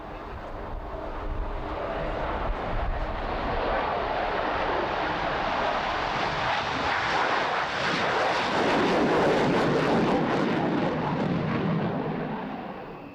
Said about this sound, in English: The big M53 engine gives it enormous acceleration on takeoff.